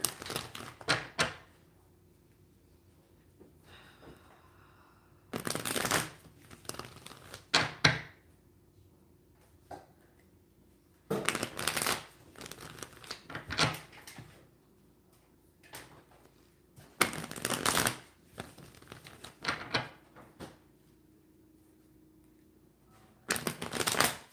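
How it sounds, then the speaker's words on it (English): Tarot cards are shuffled in several loud riffling bursts, crisp flapping and clicking runs separated by quieter pauses, close up. "when I was shuffling the cards"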